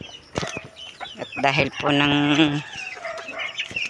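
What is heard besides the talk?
chickens clucking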